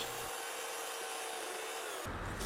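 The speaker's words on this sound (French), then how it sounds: "Je vais essayer d'affiner un petit peu à la scie encore" Steady rasping of a hand saw cutting through a tree branch in a winter garden, a continuous scratchy rub at close range with no talk.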